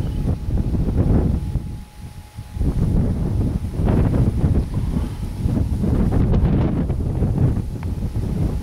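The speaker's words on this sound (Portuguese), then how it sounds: "Então tá um vento forte aqui" Strong wind buffets the microphone outdoors as rain approaches, a loud, continuous roaring rumble with gusty surges and a brief lull near the middle, and no voices.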